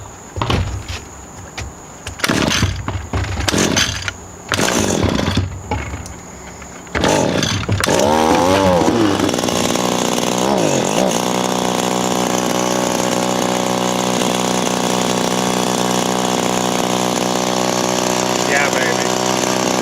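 An Echo PE2000/GT2000 edger with a newly installed carburetor is pull-started several times with loud rips and clatter, then catches and settles into a loud, steady two-stroke buzz that revs briefly before holding.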